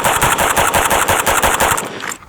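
Rapid string of loud, sharp rifle shots from a PTR 32P with a big muzzle brake, about a dozen concussive reports in quick rhythm before stopping.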